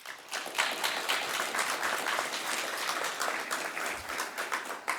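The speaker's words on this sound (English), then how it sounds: "Give yourselves a round of applause." A crowd at a Battle Creek community transit event claps steadily for several seconds, a continuous moderate round of applause with no talking over it.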